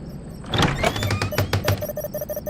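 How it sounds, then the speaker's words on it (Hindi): A door, apparently in a storeroom off a courtyard, is opened with a close thunk and sliding scrape, followed by a few soft knocks and taps, fairly quiet and with no talk. "जैसे ही दिया ने दरवाजा खोला"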